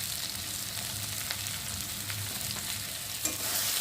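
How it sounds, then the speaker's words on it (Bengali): Spice paste with salt, turmeric and tomato frying in a pan for a bhola fish dish, a steady soft sizzle with light stirring scrapes, moderately close and alone. "দিয়ে মশলাটাকে ভালো করে ভেজে নেব"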